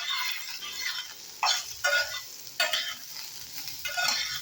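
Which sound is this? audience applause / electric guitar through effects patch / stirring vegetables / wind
stirring vegetables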